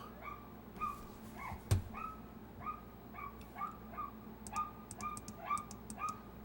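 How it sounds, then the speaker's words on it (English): Neighborhood dog yapping outdoors, a series of about a dozen small, sharp yaps spaced roughly every half second, faint and distant, with one sharp knock near the start. "can you hear my neighborhood dog out there yapping away?"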